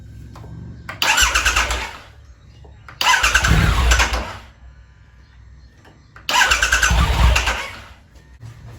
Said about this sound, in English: We're gonna turn on the bike so that it'll depressurize the fuel. Or try to turn it on. You just try to crank it.